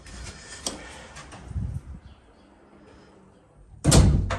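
A door with a freshly adjusted closer swings shut, with light rattles and a soft thud midway, then a solid firm close near the end.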